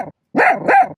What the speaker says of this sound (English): and yes, the occasional bark of wisdom from Chew Man.